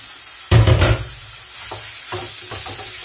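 Liver drops into hot oil in a home kitchen pan, giving a sudden loud sizzling burst that quickly settles into a steady, quieter frying hiss with a few faint stirring scrapes.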